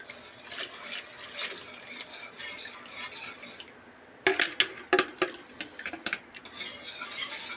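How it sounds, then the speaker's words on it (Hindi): Spoon scraping and clinking against a pot while fruit custard is stirred during cooking, soft rhythmic stirring with a cluster of sharper metal knocks midway. "इसी तरह हमने चम्मच चलाते हुए इसे पकाना है तकरीबन 5 मिनट के लिए।"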